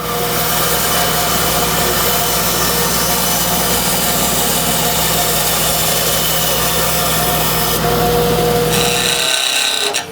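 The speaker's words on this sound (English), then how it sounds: "we're going to grab ourselves some 2-inch Purple Heart, cut it up" A power saw cuts 2-inch purpleheart wood into blanks, a loud, steady, close whine that holds for about nine seconds before winding down.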